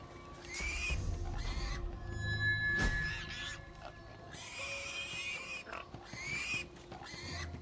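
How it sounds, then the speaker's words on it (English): Pig in Divinity: Original Sin 2 grunting and squealing in several short bursts, with oinks and high squeals alternating across the span, close and clear amid light game sounds. "Come here, pig."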